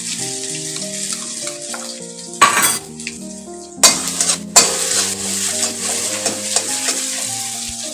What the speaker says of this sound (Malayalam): അപ്പോൾ ആദ്യം നമ്മൾ കുറച്ച് ഓയിൽ ഇട്ടിട്ട് ഇഞ്ചിയും പച്ചമുളകും വെളുത്തുള്ളിയും ചതച്ചത്